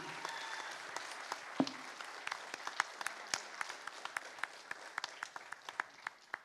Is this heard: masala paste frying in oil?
no